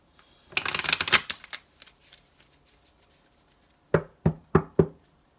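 An oracle card deck is riffled and shuffled in a quick crisp burst, then after a quiet pause four sharp knocks or taps land on the deck, close and clear with no talking.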